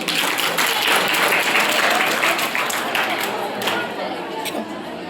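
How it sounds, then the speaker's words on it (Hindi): Dense applause from an audience at a traditional folk dance and folk song workshop, loud and sustained, gradually thinning toward the end, with chatter mixed in. "ताली बजाइए।"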